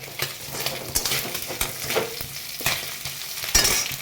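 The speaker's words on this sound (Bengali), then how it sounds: "চলো মাছগুলোকে ভেজে নিই ভালো করে" Salt-and-turmeric-coated fish fries in hot oil, giving a close, crackling sizzle punctuated by sharp spatters and a few clinks of utensil against the pan. No voices.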